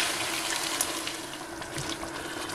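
Hot water is poured into a cooking pot holding a tomato-juice stew, making a steady, close rushing splash that runs evenly throughout with no talking.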